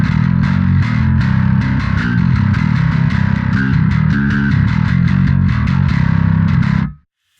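Distorted bass guitar through a Neural DSP Darkglass Ultra amp plugin with a different cab, a thick, gritty riff of rapid repeated picked notes played continuously and loud, stopping abruptly near the end.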